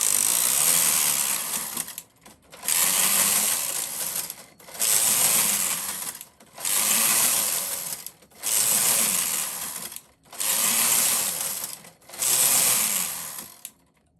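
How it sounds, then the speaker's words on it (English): A lace carriage on a Brother KH-950i knitting machine slides across the needle bed transferring stitches, seven long rattling mechanical passes separated by brief pauses, close and steady with no talk. "I'm going to start the transferring with the lace carriage."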